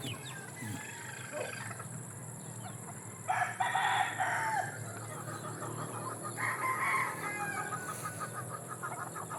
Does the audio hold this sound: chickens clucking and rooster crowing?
yes